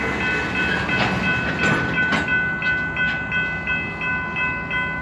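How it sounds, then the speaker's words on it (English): Freight train working out of the yard and blocking both road crossings at Mykawa, T&NO Junction, rolling cars rumble close by with rhythmic clanks and clicks of wheels over joints, plus steady tonal ringing from crossing equipment. "Have a train working out at the yard, blocking up both crossings here."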